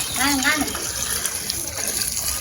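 Water pours and splashes steadily, close by, over papaya being washed, while a person talks over it at the start.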